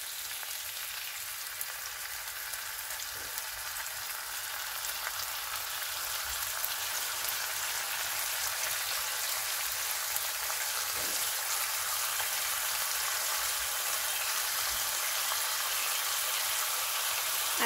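Bacon sizzling and crackling steadily in an uncovered frying pan, a continuous close, even hiss of fat with no talking.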